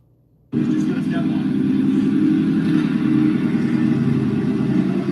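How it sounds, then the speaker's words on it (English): A deep, loud pickup truck exhaust rumble from a Borla ATAK aftermarket exhaust kicks in abruptly after a brief silence and holds steady and throaty close by. "This is a Borla ATAK exhaust."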